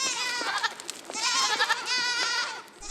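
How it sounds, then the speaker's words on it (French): Miniature goats at a farm in a forest bleat loudly and up close in several long, quavering cries that overlap one another, with hardly a gap between them. "Ces adorables petites chèvres,"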